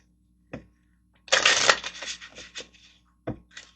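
Tarot cards being shuffled by hand, a dense riffling burst framed by a few sharp card taps and slaps, close and clear with no voices.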